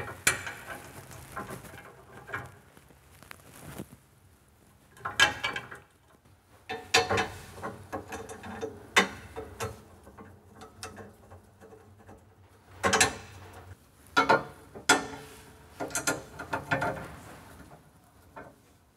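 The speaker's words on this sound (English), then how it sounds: "So these position like that and screw into place." Brackets are screwed into place on an ECF Innostor Plus soft-close larder frame, producing intermittent clicks, ratcheting and scraping bursts separated by quiet pauses, close up with no talking.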